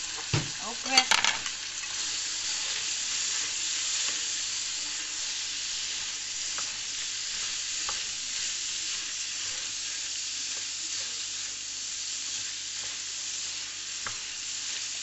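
Pineapple pieces frying in a pan on their own until browned, a steady close sizzle with a brief stir and clatter at the start, then continuous hissing with occasional small pops.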